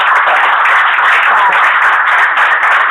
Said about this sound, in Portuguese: eu queria que vocês batessem uma salva de palmas para ela